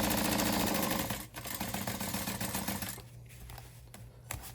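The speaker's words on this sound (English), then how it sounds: "I'm just basting at 1/8 of an inch, and we want it to be hidden in the binding." Rapid mechanical chatter of a sewing machine basting a straight stitch on a crossbody bag, running steadily, then slowing and trailing off into quieter stops and starts.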